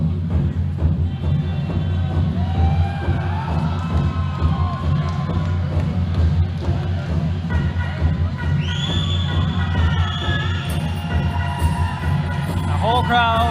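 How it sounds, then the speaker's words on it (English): A fight-night crowd roars and cheers in a dense, sustained wash, loud and close, with scattered shouts and whistles rising toward the end and speech mixed into the din. "Whole crowd, getting riled."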